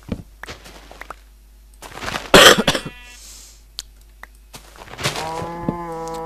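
A person playing Minecraft 1.3.2 gives a short burst of harsh, close coughs and throat clearing among sparse game clicks, followed by a tonal, moo-like animal call.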